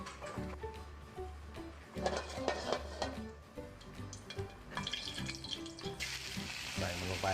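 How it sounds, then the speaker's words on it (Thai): Catfish frying in hot oil in a pan, a steady sizzle and crackle throughout, with faint clatter of utensils and a short stretch of louder, brighter hissing near the end. "อ่าปลาดุกที่เราเตรียมไว้นะครับ เตรียมลงกระทะเลยนะครับ"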